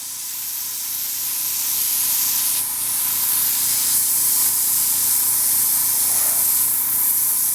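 Tamiya Spray Work HG airbrush spraying steadily, a continuous close hiss that holds for the whole stretch with only slight dips, no voices over it.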